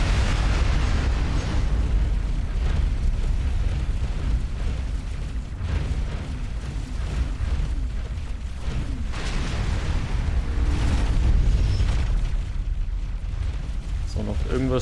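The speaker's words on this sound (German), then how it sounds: "Irgendwas schießen hier die Pulsläser noch" Pulse lasers fire in a space battle in X4 Foundations, giving a steady, loud stream of booming, explosive bursts that runs under someone speaking German.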